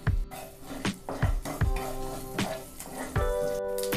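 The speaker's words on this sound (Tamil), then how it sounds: "கடுகு பொரிஞ்சிருச்சு" Mustard seeds crackle and pop in hot oil in a pan as garlic gravy is started, a run of sharp irregular snaps and clinks over a steady low sizzle, close and moderately loud.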